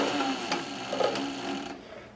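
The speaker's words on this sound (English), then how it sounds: "So I'm going to put my foot on the pedal, and I'm going to move forward and sew." Cowboy CB3200 leather sewing machine stitching at an even, steady running pace, fairly close and loud, with a slight easing toward the end.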